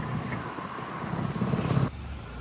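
A road vehicle is driven along, giving a steady engine and road rumble with a slight rise before it cuts to a quieter hum near the end, close and moderate in level.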